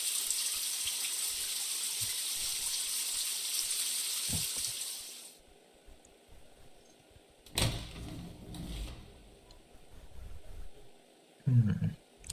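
Shower water running in the video game Spirit Hunter: NG, a steady broadband hiss for about five seconds that cuts off, followed by a few soft thumps and knocks.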